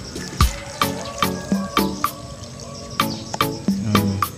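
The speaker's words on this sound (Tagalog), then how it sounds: "Kukuha lang ako ng tubig." Water poured from a container onto a potted lemon lime philodendron, splashing and trickling close by in a run of short, repeated bursts with no talking.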